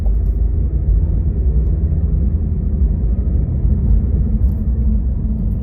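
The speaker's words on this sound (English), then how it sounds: "now we can open up this car a little and kind of hear the engine" Cabin of a 2024 Cadillac CT5 under acceleration, with a steady, muffled low engine and road rumble that stays even and subdued throughout.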